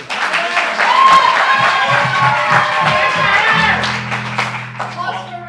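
Audience at an improv comedy show bursts into loud, sustained applause with cheering, clapping dense and close for several seconds, a voice speaking over it near the end.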